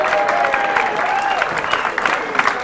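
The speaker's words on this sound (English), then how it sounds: "Big round of applause." Comedy club audience applauding, a dense burst of clapping throughout with light crowd noise and a voice speaking over it.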